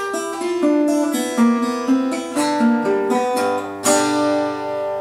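Fingerstyle bluegrass guitar lick in G played slowly, a clear run of plucked single notes and ringing chord tones over about five seconds, ending on a bright strummed chord, with no talking.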